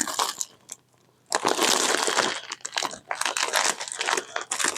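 Loud crinkling and tearing of packing tape and plastic wrap as a taped parcel is unwrapped, in bursts with a brief pause, close up.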